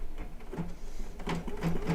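An embroidery machine stitches small lettering in purple metallic thread, giving a steady mechanical whir with regular rhythmic needle thumps, close and continuous.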